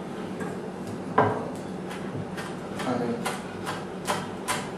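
A knife taps on a cutting board while chopping curry leaves, a short series of light knocks growing quicker toward the end over a faint background hum.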